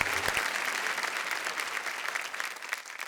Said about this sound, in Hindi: जोरदार तालियां राधा और भगवान मकरंद के लिए